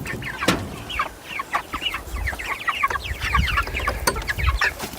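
Cornish cross chickens cluck continuously at close range, a busy overlapping chorus of short calls with a few sharper squawks.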